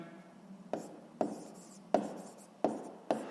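Pen writing on paper while working a sixth-grade maths exercise, five short scratchy strokes at a steady rhythm, close and fairly quiet, with no talking.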